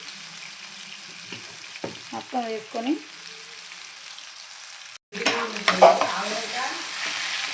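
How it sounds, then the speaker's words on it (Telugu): Ginger-garlic paste and onion paste hit hot oil and fry with a steady hiss that swells into a louder, brighter sizzle partway through. A voice speaks briefly near the start. "ఇది గోల్డెన్ కలర్ వచ్చే వరకు వేయించుకోవాలి"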